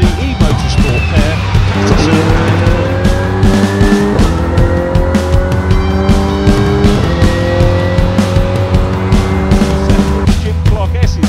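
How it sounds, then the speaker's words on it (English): Race cars in a Mini Challenge event roar around a circuit, engines loud and continuous with rising and falling pitch as cars shift and pass, with tyre squeal and a commentator's voice running over the racing noise. "Coates propelled himself into third ahead of WDE Motorsport pair."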